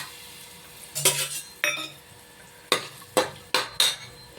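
Whole spices drop into hot oil in a pan for vegetable pulao, with several sharp clinks and short sizzling bursts spaced across a quiet background.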